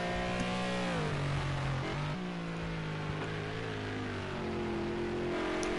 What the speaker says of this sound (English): Just a mean sounding race car, and if a race car sounds mean, it's always a good race car.